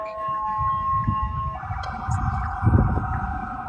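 An ambulance siren wails continuously in a steady rising and falling tone, loud and close, over background rumble and crowd noise with no clear speech.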